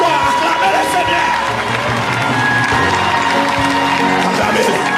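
A church congregation cheers and acclaims the Lord in a loud, continuous wall of voices, with shouts and whoops over rhythmic thumps that sound like stamping or drumming.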